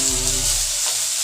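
Chicken sizzles in a frying pan with a bright, steady hiss, close and continuous over a short stretch, with a faint low knock at the start.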